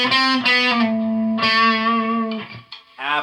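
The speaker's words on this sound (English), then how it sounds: "Let's try it all the way to the distortion side." Electric guitar through a Behringer OD300 overdrive/distortion pedal turned fully to the distortion side, playing loud, sustained distorted chords with a bright, harsh edge, a couple of short pauses and a final strummed chord.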